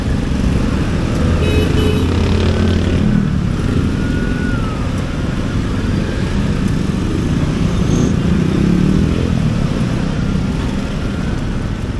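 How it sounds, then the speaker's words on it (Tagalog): A motorcycle belching heavy exhaust smoke passes on a road, its engine drone rising and falling amid steady traffic noise over roughly twelve seconds. "Yung motor ni kuya, grabe usok."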